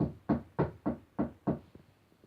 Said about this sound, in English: he knocked the door.